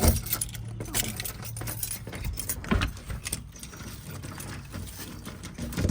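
A bunch of keys jangles and clinks close by, metallic rattling running continuously over faint background noise.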